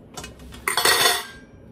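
Food being put on a plate, with a short burst of clinking dishes and cutlery, close and fairly loud, alone without talk.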